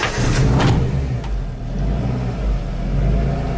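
Inside an Abarth Punto race car, the engine revs steadily with a loud, echoey mid-range drone and a few rising bursts near the start, heard from within the cabin with no talking.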